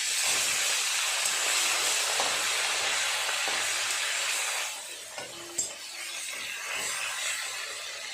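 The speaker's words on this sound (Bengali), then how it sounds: "খুব ভালোভাবে তেল গরম হয়ে গেছে, এক এক করে মাছগুলো দিয়ে ভেজে নেব।" Fish fry in hot oil with a dense, continuous hiss that stays strong for about five seconds, then eases to a lower crackle with a few small clinks, close and without voices.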